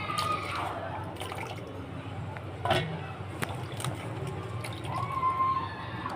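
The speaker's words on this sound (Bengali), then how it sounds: "এই যে এগুলো ধুয়ে নিচ্ছে।" Vegetable seeds being washed in water, quiet sloshing and dripping with small splashes and a brief louder splash midway, close and soft throughout.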